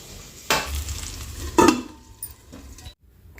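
A vegetable cooks in a pan with a tempering of cumin, mustard seeds, curry leaves, salt and garlic chutney: two sharp stirring scrapes over a low sizzle, close by and alone.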